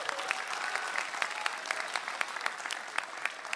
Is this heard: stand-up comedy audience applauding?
yes